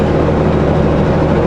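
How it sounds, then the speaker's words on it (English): Steady, loud road traffic passing on a highway in Banff National Park, a continuous low engine and tire rumble close by with no talk. "Traffic."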